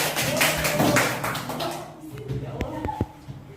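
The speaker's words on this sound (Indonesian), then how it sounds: "Tepuk tangan dulu buat Marani." Students in a classroom give a brief round of applause for a classmate, a short burst of clapping that fades into scattered taps and shuffling.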